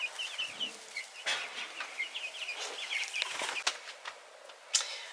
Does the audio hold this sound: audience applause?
no